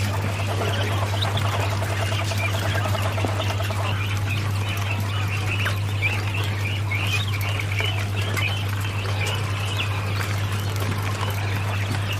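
Many quails at a quail farm chirp and call continuously, a dense chorus of small bird voices over a steady low hum, with no talking.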